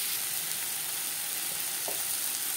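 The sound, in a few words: onions and tomatoes frying in refined oil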